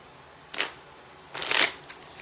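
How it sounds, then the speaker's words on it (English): Tarot cards are shuffled in two short riffling bursts, the second longer and louder, close by in a quiet room. "Let me shuffle these up just a little more."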